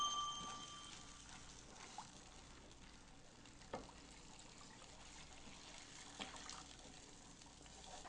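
A cup of water trickles quietly into tomato sauce in a pan on medium heat, a faint, steady pour with a few small splashes and clinks against a soft background hiss.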